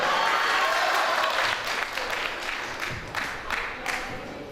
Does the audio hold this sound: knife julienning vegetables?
no